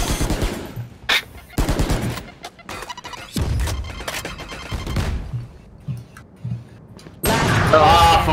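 First-person shooter video game gunfire, loud close bursts of automatic shots alternating with short gaps and single cracks, ending in a heavy sustained volley, with a player voice faintly mixed in.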